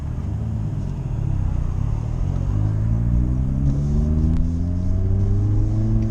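A Hyundai Veloster N, a front-wheel-drive hot hatch, revs while warming up, its exhaust rumbling close and loud with rising engine pitch as the throttle climbs, no talking over it.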